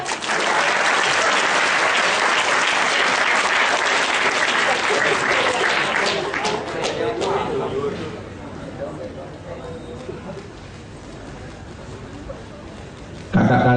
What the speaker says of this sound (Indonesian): Baik, tepuk tangan untuk kalian.